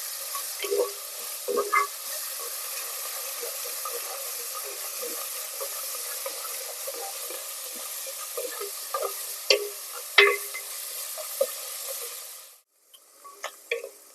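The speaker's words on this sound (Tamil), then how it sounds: "இந்த வெங்காயம் சாஃப்ட் ஆகிற வரைக்கும் நல்லா வதக்கி எடுத்துக்கலாம்" Onions and curry leaves sauté in a pan for a village-style greens dish, giving a soft, steady sizzle with occasional spoon scrapes and taps. The sizzle stops abruptly near the end.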